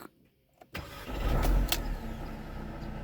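A Mercedes W204 that had refused to start, repaired after a faulty engine control unit, is cranked with the key and catches right away. The engine settles into a steady idle close by after a quiet start.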